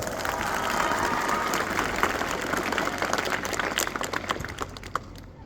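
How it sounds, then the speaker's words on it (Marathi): An audience at a school World Tribal Day event gives loud, sustained applause for the teachers, staff and children. The clapping is dense at first and thins into scattered claps toward the end. "सर्व शिक्षकासाठी, स्टाफसाठी आणि सर्व मुलांसाठी जोरदार टाळ्या"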